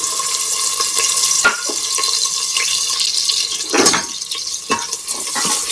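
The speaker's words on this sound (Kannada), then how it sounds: "ಸ್ವಲ್ಪ ಎಣ್ಣೆಲಿ ಚೆನ್ನಾಗಿ ಈರುಳ್ಳಿ ಇದಾಗಲಿ" Steady sizzle of onions frying in oil in a pan for a curry, with scraping and stirring clatters, loud and close, no voices.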